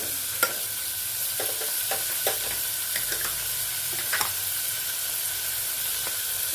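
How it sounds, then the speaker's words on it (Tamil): A thick horse gram paste sautés in a pan under a steady frying hiss, with occasional soft stirring scrapes and light taps of the spoon, close and continuous. "நல்ல திக்காக ஒரு பேஸ்ட் வரா மாதிரி நம்ம அதை வதக்கி எடுத்துக்கணும்"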